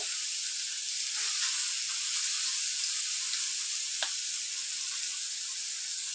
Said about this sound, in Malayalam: അതിൽ ഈ നെത്തോലി ഇട്ട് ഫ്രൈ ചെയ്തെടുക്കാം.